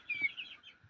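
A poultry hen gives a brief, faint cluck or two close by, set against a quiet background.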